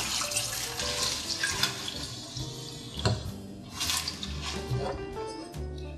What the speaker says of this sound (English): So now that our kale is washed